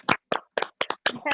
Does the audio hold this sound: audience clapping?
yes